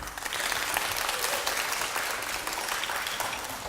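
A hall audience at a children's composition recital applauds steadily, a dense continuous clatter of many hands at even loudness throughout, with no voices rising above it.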